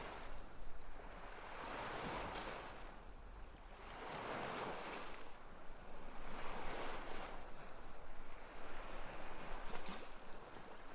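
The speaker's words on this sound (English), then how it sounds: "Turned up the sound effects so you can at least hear the waves now." Ocean waves in a VRChat world roll in steady washes of surf, swelling and receding every couple of seconds, loud and continuous with no talk.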